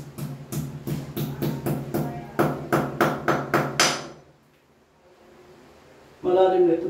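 A power drill bores into a wall while a bathroom organizer is installed, giving a close, rhythmic run of about a dozen pulsing bursts for four seconds before stopping, then a brief voice after a quiet pause.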